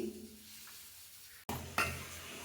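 Ground cowpea paste poured into a hot tempering and stirred, giving a soft sizzle and scraping stir after a sudden splash, close and fairly quiet with no talking.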